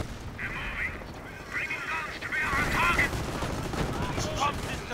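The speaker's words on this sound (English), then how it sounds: "Oh shit, AT guns." Anti-tank guns and small-arms fire in a World War II Company of Heroes battle, with repeated sharp shots and bursts of gunfire over a busy battlefield din, mid-distance, alongside game voice chatter.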